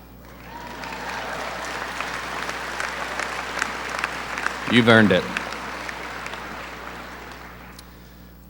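A graduation crowd at a high school ceremony bursts into sustained applause, steady and full, while a single voice speaks briefly over the clapping partway through.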